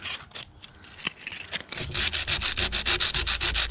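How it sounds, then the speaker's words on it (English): Sandpaper rubbed by hand along the edges of a wooden shop table, starting with a few scattered scrapes and then settling into steady, close, fairly loud back-and-forth strokes. "But then what I'll do is take me just a little sandpaper,"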